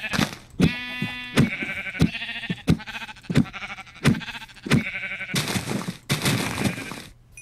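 A Minecraft sheep bleats again and again in short, wavering cries, broken up by sharp, crisp hit sounds. The bleats come at a quick, uneven rhythm and sit close and clear.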